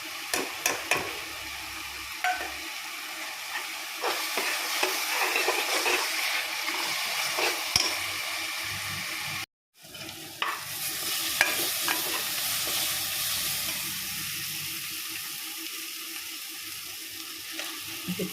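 Spices with salt and turmeric sizzle as they are sautéed in a pot for chicken biryani. A steady frying hiss runs throughout, with scraping stirs and one brief pause near the middle.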